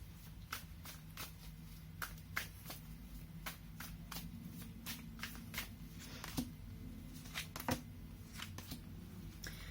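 Tarot cards being shuffled and drawn, a quiet close series of sharp riffling snaps and slides in an irregular rhythm with no talking.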